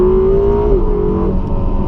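A Ferrari California T with its turbocharged V8 revving loudly and close by, a steady throaty drone whose pitch drops partway through and then settles into a lower hum.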